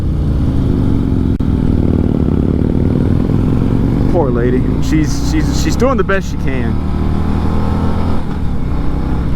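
A Harley-Davidson Road Glide motorcycle engine drones steadily at speed with a low, continuous rumble, while a rider talks over it throughout.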